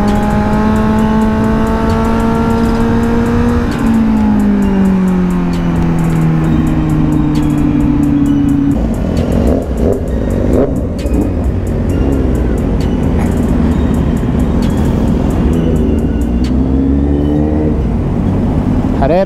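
A Mustang GT, a Kawasaki Z900 superbike and an Audi TT line up for a drag race, their engines droning loudly and continuously as pitch climbs and falls through revs and gear changes, with faint voices in the mix.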